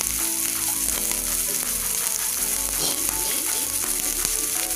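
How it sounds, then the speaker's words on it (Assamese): A medium-sized onion fries in hot refined oil in a wok, giving a steady, close hiss of sizzling with a faint tonal background underneath. "তেলখিনি গৰম হোৱাৰ পিছত পিয়াজ দিছো।"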